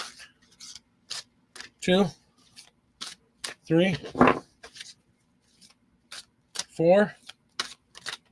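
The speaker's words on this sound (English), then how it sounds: "Okay, 8 times and shuffle. Okay, shuffle 8 times." Tarot cards being shuffled, heard as a series of short, soft rustling bursts in a steady count, close by and interleaved with a person counting aloud.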